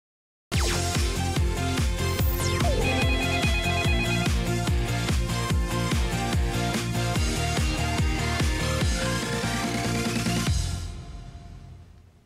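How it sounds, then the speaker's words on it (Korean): A telephone rings for an incoming call during a live legal-advice broadcast, a loud, rapid, repeating electronic ring that runs steadily for about ten seconds before fading out. "저희가 이야기를 나누는 동안 상담 전화가 연결이 됐네요."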